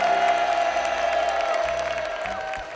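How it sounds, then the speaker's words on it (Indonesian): A studio audience at a televised talent show claps and cheers, a loud mixed crowd roar over a sustained musical tone, fading slightly toward the end of the short burst. "Tepuk tangan sekali lagi dong buat Pak Jero."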